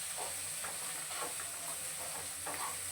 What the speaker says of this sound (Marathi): तर 1 मिनिटभर आपण हे मसाले चांगले फ्राय करून घेतले.